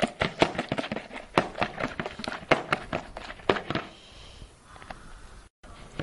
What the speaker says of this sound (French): je vais mélanger le tout à la main